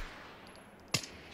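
A single sharp gunshot fired in the virtual-reality shooter Onward, one abrupt loud crack rising out of quiet ambient game noise and fading quickly, with no talk.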